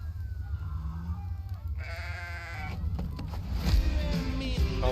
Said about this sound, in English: Goat Simulator 3? I was thinking about, you know, maybe they're gonna bring out another Goat Simulator